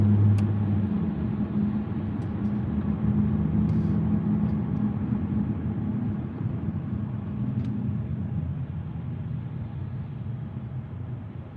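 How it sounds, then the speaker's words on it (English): New York City street traffic: a steady, dense low rumble of passing cars and engines fills the whole stretch at moderate loudness, with no voices over it. "Man, New York traffic is the worst"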